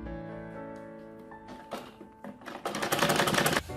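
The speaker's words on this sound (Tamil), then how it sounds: "மீதி இந்த துணியை அப்படியே வந்து மடக்கி விட்டு ஸ்டிச் பண்ணி முடிச்சிடணும்" A sewing machine stitches a school uniform skirt, its whirring stitching building in the latter half to a loud close run of rapid needle strokes, after a quieter stretch of lighter mechanical noise.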